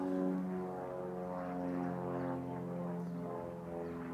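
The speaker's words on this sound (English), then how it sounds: "Of course, there's a plane flying over low right now," A low-flying twin-engine propeller plane passes overhead, a steady droning hum with layered engine tones that swells slightly and holds for the whole stretch, heard alone at a distance.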